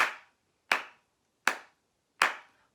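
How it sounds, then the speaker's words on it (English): A single pair of hands claps a steady beat, four crisp, evenly spaced claps that are close and clear, with quiet gaps and nothing else heard. "this time we're going to clap the beat while we sing."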